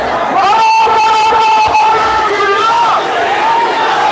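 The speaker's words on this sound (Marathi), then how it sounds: "प्रचंड प्रचंड प्रचंड गर्दी या ठिकाणी आपण बघू शकतोय" A huge crowd at a Jarange Patil rally in Beed, a dense roar of voices, cheering and whoops that holds steady throughout, with nearby chatter mixed into the din.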